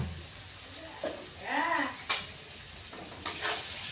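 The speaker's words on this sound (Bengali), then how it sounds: "ভালোভাবে সবজিগুলি আলুগুলি আলুগুলি ভেজে নেব" Vegetables and potatoes frying in a pan for a fish curry, a soft steady sizzle with spoon scrapes and clinks against the pan, faint and close, with a voice briefly over it.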